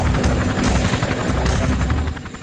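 A helicopter carrying a high-frequency radar for testing a Mars landing sky crane, at a California air base, flies close with a loud, continuous rotor chop and engine roar throughout.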